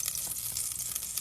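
Garlic sizzles steadily in a little margarine, a dense, even crackle of frying filling the short stretch with no voices.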